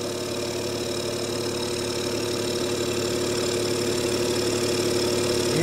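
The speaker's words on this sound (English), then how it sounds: "now the pump has gone to an unloaded state" A Jenny air compressor pump running unloaded after reaching pressure: a steady, even mechanical hum and chug with no change in pace, close and continuous, and no one speaking.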